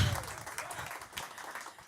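Applause from a comedy club audience, a scattered patter of hand claps fading and swelling over the short stretch, moderately distant and fairly faint.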